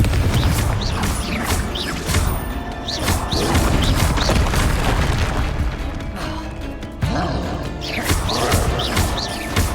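Confringo spell explosions and combat effects in the game Hogwarts Legacy, a dense series of booming blasts, crashes and impacts recurring every second or two, loud and close, mixed with game music and effects.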